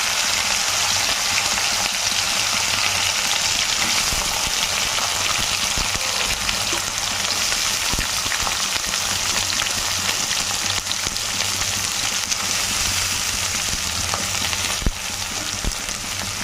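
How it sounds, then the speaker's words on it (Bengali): Chopped onions sizzle in oil tempered with dried red chillies and peppercorns for a mutton gravy, producing a dense, even hiss that continues unbroken throughout, with a few faint clinks and no voices. "এবার পেঁয়াজটা ভালো করে ভেজে নেব। পেঁয়াজটাকে সুন্দর করে লাল লাল করে ভেজে নেব।"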